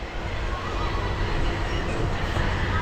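A local passenger train on the Haldibari–Bamanhat route pulling out of a station, heard from inside as a steady, loud rumble of wheels and carriage noise that continues without pause.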